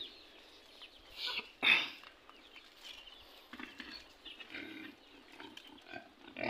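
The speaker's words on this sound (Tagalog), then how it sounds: "Yun ang baboy niya." Pigs kept as farm animals on a mountain homestead, with chickens nearby, give a loud snort or grunt near the middle, amid faint rustling and low grunting noises; no one speaks.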